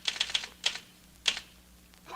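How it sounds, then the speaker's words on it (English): Typewriter keys striking in short clustered bursts, a few quick clacks then pauses, close and fairly crisp in an office setting, with no talk over them. "I'm typing while I'm talking to you, aren't I?"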